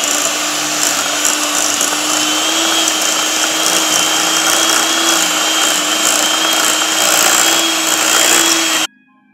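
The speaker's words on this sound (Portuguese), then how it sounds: "E agora eu vou bater com a batedeira." An electric hand mixer beats a mixture of crushed Oreo cookies, running as one loud, steady whir for about nine seconds with no talk over it, then cutting off abruptly at the end.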